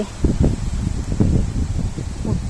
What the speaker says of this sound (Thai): โอ้ย ลมดีดี